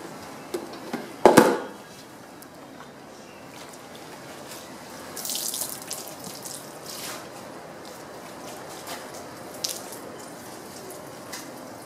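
Water rinsing over the car bodywork of a Plymouth Prowler, a sudden loud splash early on followed by quieter running and dripping water with a second softer gush midway.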